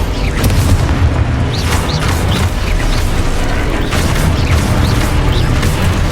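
Confringo spell blasts in the Hogwarts Legacy video game, loud booming explosions layered with rumbling and crackling debris in a dense, continuous stretch of battle sound.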